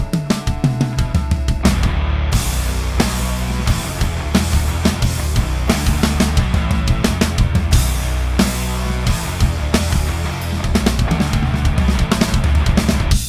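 A full drum kit plays a run of busy licks over a backing track in a musical setting, with dense, loud, continuous hits and crashes filling the whole stretch.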